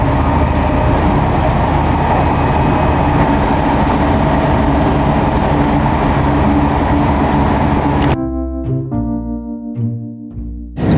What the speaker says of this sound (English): we made it to the train that's taking us to York